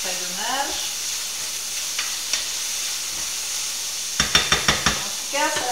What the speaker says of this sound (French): Je vais mélanger aussi mes petits poivrons pour pas qu'ils brûlent quand même